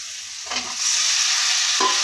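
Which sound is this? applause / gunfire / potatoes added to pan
potatoes added to pan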